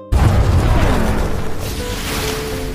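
A sudden loud boom bursts from a leaking door at a Mars base in a film, followed by a sustained roaring, rumbling decay that fills the rest of the moment.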